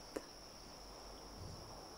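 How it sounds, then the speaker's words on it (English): Faint, steady high-pitched insect trilling holds throughout, quiet and constant like crickets or cicadas at a distance, with a single brief click near the start. "you can hear cicadas and crickets"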